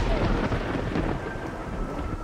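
A thunderstorm in the Red Dead Redemption video game, with a deep rolling rumble of thunder over steady heavy rain, loud and continuous with no voices.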